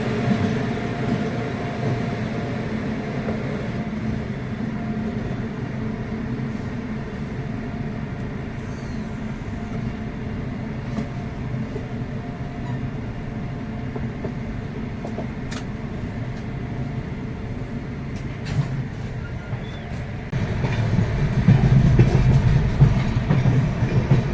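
The Duronto Express from Kolkata Shalimar to Patna runs steadily, heard from inside as a continuous low rumble and rail clatter that swells louder near the end, with no voices.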